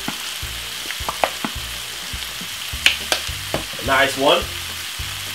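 Vegetable tuna with a little ketchup added is stirred in a frying pan, sizzling steadily with scraping knocks from the utensil, and a voice speaks briefly near the end.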